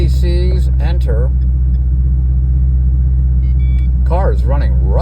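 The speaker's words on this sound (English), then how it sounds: "Car is running rough right now." A V8 car engine idles roughly, not firing on all eight cylinders, as a loud, steady low rumble that runs the whole time while someone talks over it.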